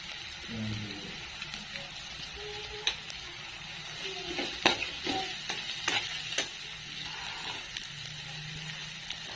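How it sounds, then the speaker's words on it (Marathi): Onion with turmeric sautés in a pan for masala rice, a steady soft sizzle broken by scraping stirs and light clinks of a spoon against the pan. "आता कांदा टाकायचा आपल्याला कांदा चांगला परतून घ्यायचा हळद टाकायची आपल्या"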